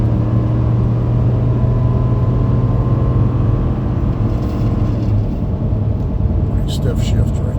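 A truck engine pulls a trailer loaded with big spruce slabs at about 60 mph on the road, making a continuous low rumbling drone with steady road noise and a brief shift in tone near the end.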